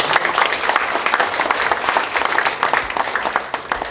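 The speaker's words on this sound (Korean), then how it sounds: "큰 박수 부탁드립니다" Enthusiastic audience applause rings through a large hall at the founding ceremony of the Kim Dae-jung Foundation's Seongnam chapter, a loud, dense patter of many hands with uneven surges in intensity, lasting the whole stretch.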